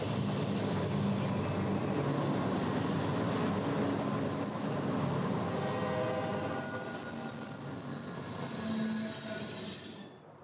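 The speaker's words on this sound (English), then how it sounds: "The BNSF train delayed by track work at Plain rolls into Cliff Siding" A BNSF freight train rolls into Cliff Siding with a loud, sustained roar of wheels and a continuous high metallic wheel squeal that holds steady before fading out at the end.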